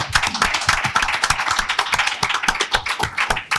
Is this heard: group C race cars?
no